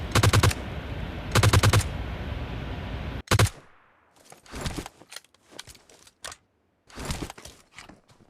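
Gunfire in the battle royale video game PUBG: two loud automatic bursts and a short third volley up close, followed by scattered quieter, more distant shots and rattles with brief gaps between them.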